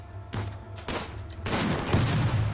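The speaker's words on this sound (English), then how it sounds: "we got three people shooting at us from here" Rapid bursts of gunfire from a firefight in the Rimworld B18 video game, several shooters crackling in overlapping volleys that grow denser and louder toward the end, with no talk.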